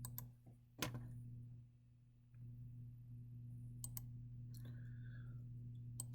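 A computer mouse gives a couple of quiet, close clicks during software work, set against a steady low electrical hum with faint ticks later.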